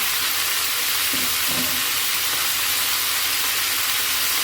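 Carrots and cauliflower cooking in a pan for a spiced mixed vegetable dish, a loud steady sizzle and hiss of frying throughout, with a few soft stirring knocks early on and no talking.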